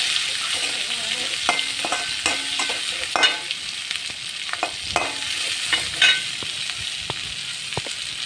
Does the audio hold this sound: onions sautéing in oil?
yes